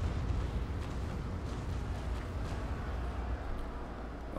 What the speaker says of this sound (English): That's a lot of cannon going off there.